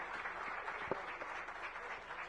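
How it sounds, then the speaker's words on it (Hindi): An audience at a public event applauds loudly in honour of a deputy chief minister, a steady mass of clapping heard from a distance. "मैं चाहूंगा जोरदार तालियां अरुण साहब जी के सम्मान में"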